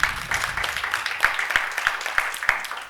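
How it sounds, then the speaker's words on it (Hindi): An audience claps loudly in a hall during a talk, a dense wash of hand claps with rhythmic group beats standing out, fairly close and without speech. "जोरदार तालियां।"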